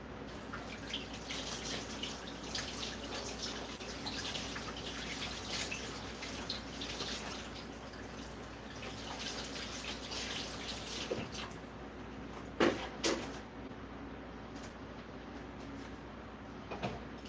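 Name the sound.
washing hands under running tap water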